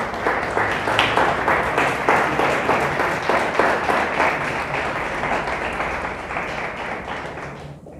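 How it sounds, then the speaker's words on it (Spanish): During a sermon, a church congregation breaks into loud, sustained applause, many hands clapping in a dense rhythmic patter that holds for several seconds before tapering off abruptly at the end. "Le damos un fuerte aplauso a Dios."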